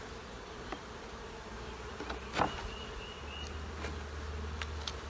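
Honey bees buzz steadily around an open hive during the first inspection of the season, a soft continuous drone with occasional louder passes of single bees near the mic and no talking.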